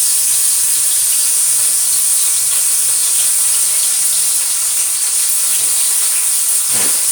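Meat sizzles in a pan of hot oil for a bolognese sauce, a loud, dense, continuous hiss that holds steady close by with no voices over it.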